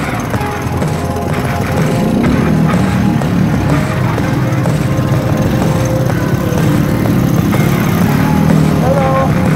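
Trike engine revving hard and steadily during a wheelie attempt near water, a loud continuous motor roar with rising and falling pitch throughout; voices are faintly audible underneath.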